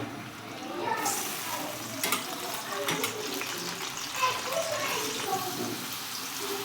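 Onions hitting hot oil in a pan for pav bhaji, giving a bright, close sizzle that swells after the first second and keeps crackling and fluctuating, with faint talk underneath.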